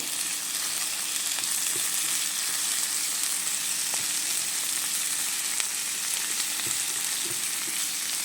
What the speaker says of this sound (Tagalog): lutuin natin yan hanggang sa lumambot ng konti yung ating tomato also